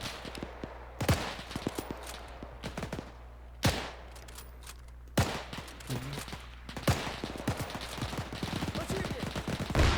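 Gunfire in a video game battle at the defense of Brest-Litovsk, sharp close rifle shots cracking every second or two over bursts of rattling fire and a low background rumble.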